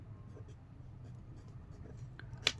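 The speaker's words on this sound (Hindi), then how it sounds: "तो यहाँ पर लिखेंगे 7" A pen scratches on an exam answer sheet during Hindi board exam copy-writing practice, a quiet continuous scratch with a sharper tick near the end, alone without talk.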